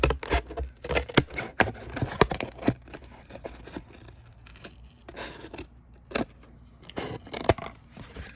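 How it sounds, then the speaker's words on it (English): Scissors snip repeatedly in irregular bursts of sharp, crisp cuts, close and fairly loud, with quiet pauses between. "I'm just going to take my scissors and I will cut these pieces"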